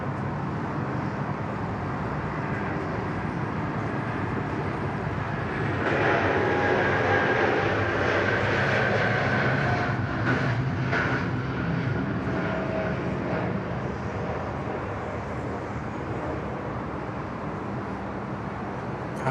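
A Qantas Boeing 787 departs Sydney Airport bound for Johannesburg, its engine roar rising and swelling midway, then holding as a broad, steady rumble at a distance.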